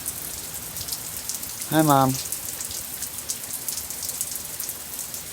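Steady rain pounding down around a bus home after a bike ride, a constant dense patter throughout, with a person briefly speaking a short greeting near the middle.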